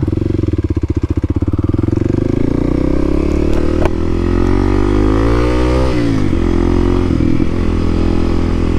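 A Kawasaki KLX300 dual-sport motorcycle revs loudly and close in first gear, its engine note climbing steadily and holding high before dropping back, with no talk over it.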